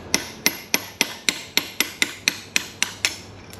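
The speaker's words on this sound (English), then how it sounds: "I grab a small flat blade chisel, small hammer, up underneath it, just kind of tap it straight down" A small hammer taps a flat blade chisel against the keyway on a Suzuki DF115 four-stroke outboard: eleven sharp metallic ticks in an even, steady rhythm, close and clear, with no talking.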